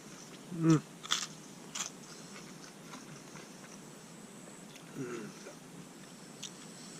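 Crunchy shrimp toast is bitten with a sharp, close crunch near the start. A few softer chewing crackles follow, then another crunchy bite about two-thirds through, all fairly quiet with no talk.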